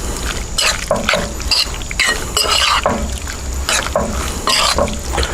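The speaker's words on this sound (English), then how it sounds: "All right, so we want to mix all that up." Chicken marinade with olive oil being mixed in a bowl, a close, loud run of wet sloshing and squelching strokes in an irregular rhythm, with no talk over it.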